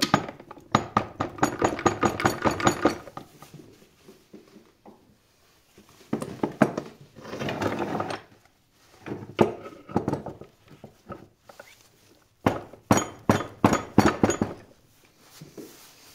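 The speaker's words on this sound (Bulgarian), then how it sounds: "Добре, ще я чукнем с гумения чук." A rubber mallet pounds a stuck bearing on a Suzuki Swift 1.3 4x4, with close, sharp blows in rapid bursts broken by short pauses.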